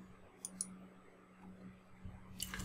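Faint, quick mouse clicks sound in a quiet room, a couple of light taps close together and then another a moment later.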